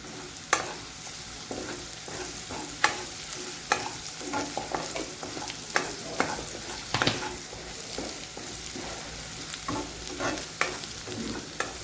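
Sliced onion cooks in oil in a pan with a steady, close sizzle, and a spoon stirs it with irregular scraping clicks and knocks throughout. Nobody speaks.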